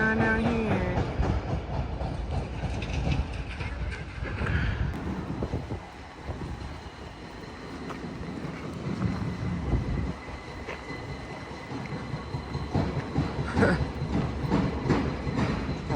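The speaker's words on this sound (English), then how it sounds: "there is a lot of noisy construction going on down here" Heavy construction machinery working at Stecoah Gap, a roadside gap on a hiking trail, producing a continuous loud rumble and clanking close by, mixed with wind buffeting the microphone.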